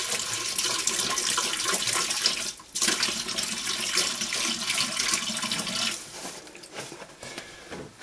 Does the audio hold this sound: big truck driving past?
no